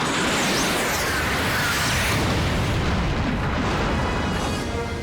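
A missile striking a satellite in a film effect, a loud, dense, roaring explosion that fills the whole span with sustained rumbling blast noise and no voices.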